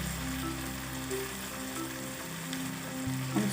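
Onions fry with tamarind juice for an onion curry, giving a soft, continuous sizzle and bubbling with a low background hum, fairly quiet and steady.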